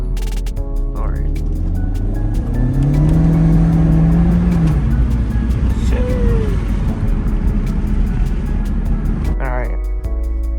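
A 2017 Honda Civic Hatchback EX creeps forward slowly with a low engine hum heard from inside the cabin, a rising and falling rev, and faint clicks near the end.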